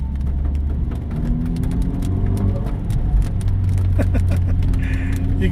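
Honda Civic FL5 Type R driving on a rain-soaked road, its steady engine and tyre rumble carrying brief fluttery chirps from the turbo near the end, close and fairly loud with no talking.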